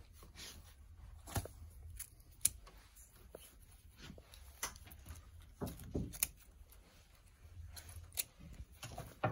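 Snipping of stem tails on a floral swag of red cosmos and fern, heard as scattered sharp scissor clicks and snips at close range with light handling rustle between them.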